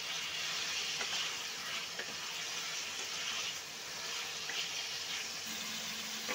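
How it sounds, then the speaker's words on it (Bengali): Chicken pieces for a curry fry in a pan with a steady close sizzle, broken now and then by the scrape and shuffle of stirring, with no voices. "মাংসটা কিন্তু ভাজার সময় মাঝে মাঝে একটু করে নেড়ে নিতে হবে"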